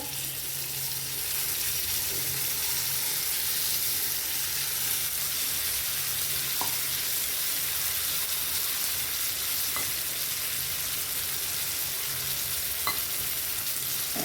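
Ground masala frying with potato in a pan, a steady broad sizzle throughout with a few faint spoon scrapes, close and continuous without talk.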